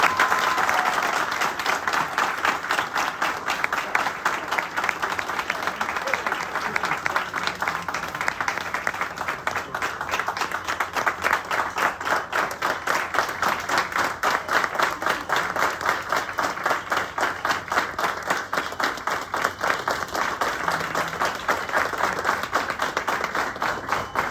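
Loud, sustained applause from a large audience at a startup ceremony, a dense and even roar of many hands clapping for the whole stretch, with no voices over it.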